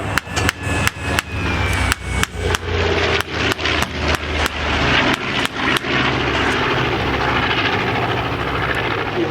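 A rebuilt WWII plane with a Wright 1820-80A engine at a Virginia Beach airshow: a run of sharp, evenly spaced bangs for about six seconds, then a steady, loud droning roar.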